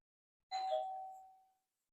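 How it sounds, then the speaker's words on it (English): A single electronic doorbell chime sounds once at moderate volume, its tone ringing and fading out over about a second in an otherwise quiet kitchen. "If you heard the doorbell, I'm getting a delivery."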